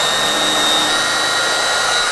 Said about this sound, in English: we're gonna do some pilot holes so we don't split the wood when we go to screw